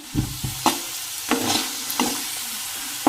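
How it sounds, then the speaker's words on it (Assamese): Slices of raw green banana fry in a pan, with a steady soft sizzle beneath several sharp scraping stirs spaced irregularly, close and moderately loud, with no talking. "এইফালে এইখিনি কাচকল অকণমান ফ্ৰাই কৰি আছোঁ"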